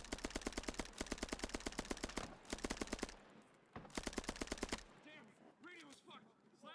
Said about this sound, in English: Managed to get that guy with the last couple rounds in that burst.